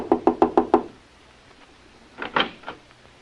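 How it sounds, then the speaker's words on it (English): Knuckles rap on a hotel room door at the French Hotel: five quick, crisp knocks in a steady run, a pause, then a few softer knocks. "I'll knock on the door."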